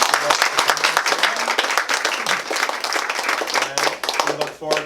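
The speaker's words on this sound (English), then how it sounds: "Give you all one last round of applause." Audience applause at a library Juneteenth proclamation event, a steady dense clapping from a crowd lasting throughout, loud and close, with some voices mixed in.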